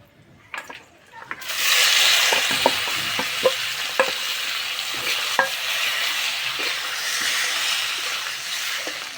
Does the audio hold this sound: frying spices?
yes